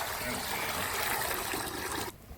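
Water poured into a trough for cattle calves on a farm, a continuous rushing, splashing flow at close range that cuts off abruptly near the end.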